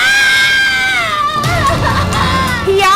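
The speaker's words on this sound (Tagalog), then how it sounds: "Hiyaw ng isang babae na sinilaban ng buhay habang siya'y natutulog." A woman screams at night in a rural village, first a loud, sustained, high wailing cry that bends downward, then rougher, broken cries mixed with background commotion.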